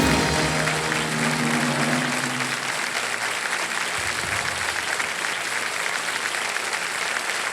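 A quiz show studio audience breaks into steady, loud applause that holds throughout, with a low musical tone underneath during the first few seconds.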